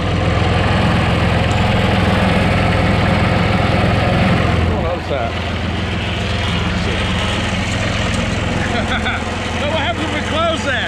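Kubota three-cylinder diesel engine idling with a steady, loud low-pitched rumble and vibration throughout, the note shifting slightly midway; a voice talks faintly over it.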